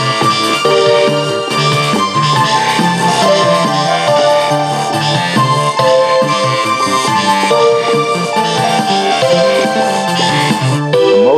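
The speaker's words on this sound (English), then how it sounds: "If I make a melody that's only going to be high, it's going to sound like this." An improvised melody kept entirely in a high register over chords, played as a loud, dense, continuous instrumental passage with no talking.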